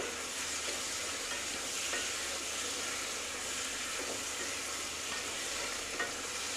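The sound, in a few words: fried lentil dumplings added to ridge gourd curry, sizzling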